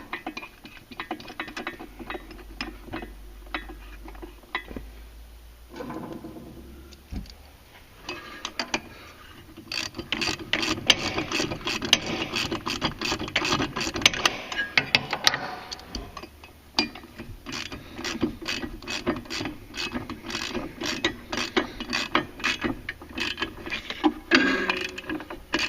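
Ratchet clicking steadily as bolts are tightened on the clutch of a Polaris 850 Sportsman ATV during an EPI clutch kit install, rapid close ticking in repeated runs with brief pauses between.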